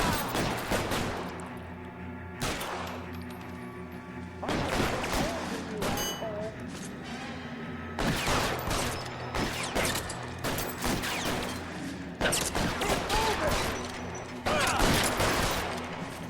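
Shootout gunfire in the crime game L.A. Noire: repeated loud volleys of shots come in bursts separated by short lulls, mixed with background voices and clatter.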